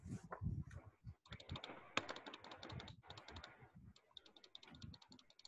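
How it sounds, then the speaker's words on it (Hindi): Rapid clicking of computer keyboard typing in a lecture setting, an irregular patter of keystrokes mixed with speech and background noise throughout. "या फिर टाइपिंग शुरू कर दिए"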